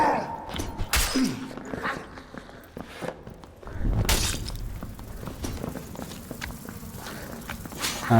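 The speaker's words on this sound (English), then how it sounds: "Player footsteps." Player footsteps in the dungeon video game Dark and Darker, a string of irregular thuds and scuffs on a hard floor, close at times and fainter at others, with sharp clanks mixed in.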